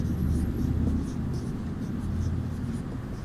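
A pen scratches steadily across paper during a Sanskrit class lesson, a continuous close writing sound with a soft background hum.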